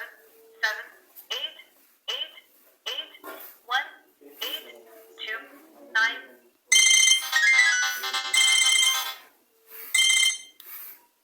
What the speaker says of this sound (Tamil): நம்மளுக்கு இப்போ கோல் வர்ற நேரமே இப்போ சவுண்டு கேட்குது.